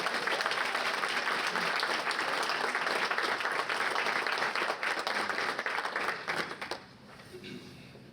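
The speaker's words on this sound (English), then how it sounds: "So give them a round of applause." Guests at an athletics hall of fame banquet applaud in a sustained burst of clapping that fades out near the end, leaving a quieter room with faint voices.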